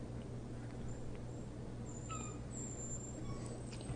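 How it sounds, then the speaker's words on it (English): A dog whines faintly in the distance, a few thin, high whimpers rising over a steady low hum in a quiet room, with no voices. "My dog's going to start whining."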